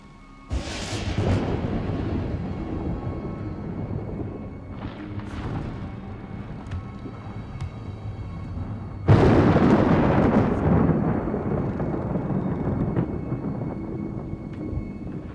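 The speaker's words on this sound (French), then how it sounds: "Tu as peur de l'orage?" Thunder from a thunderstorm in a French horror film rolls in the distance, and a much louder, closer crack hits midway before a long rumbling decay, all heard without speech.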